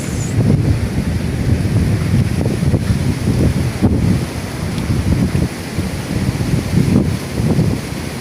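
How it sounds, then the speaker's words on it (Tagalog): Strong wind roars and buffets the microphone continuously, with a rumbling rush like surf beneath it. "Pura kusog pa ang hangin, no?"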